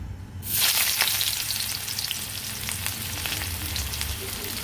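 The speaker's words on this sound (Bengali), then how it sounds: "তেল গরম হয়ে গেছে, এবার সবার ফার্স্টে আমি যেটা করব, সবার ফার্স্টে আমি দিয়ে দেব পেঁয়াজগুলোকে।" Onions dropped into hot oil in a wok burst into a loud, steady sizzle after a brief quiet start, holding a bright crackling hiss with occasional pops and no voices.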